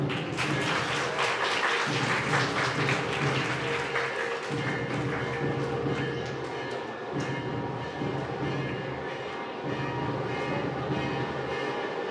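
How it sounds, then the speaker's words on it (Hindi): Audience clapping to welcome organisers at a women's event in Versova, dense and steady at first, then thinning gradually toward the end, with a hum of background noise underneath. "मैं चाहती हूँ करतब ध्वनियों से स्वागत किया जाए। तालियां।"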